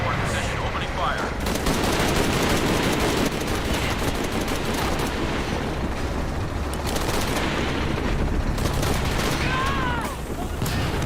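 Sustained, loud automatic gunfire rattles continuously during a chase in Shadow of the Tomb Raider, dense bursts layered over engine-like roar, with occasional radio voices talking underneath.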